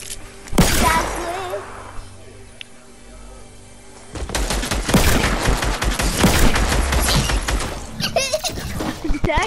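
Gunfire bursts ring out in a Fortnite match, a loud sharp crack early followed by dense, chaotic shooting and impacts that continue to the end.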